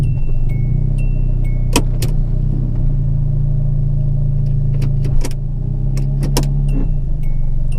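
Honda Del Sol idling up close with a steady low rumble, while short high whines and faint clicks come and go as the car shifts into reverse.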